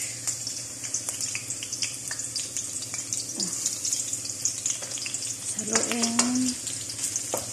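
Sliced onion going into hot cooking oil in a pan for Filipino menudo, giving a continuous close sizzle and crackle with a few stirring scrapes and clinks, while a person says a word partway through.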